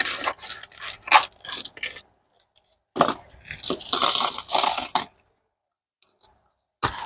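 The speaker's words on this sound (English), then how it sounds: "I'm just going to check here to see how much I have in coins." British coins clink and jingle as they are shuffled and handled up close, in repeated bursts with brief quiet gaps, ending with a sharp click.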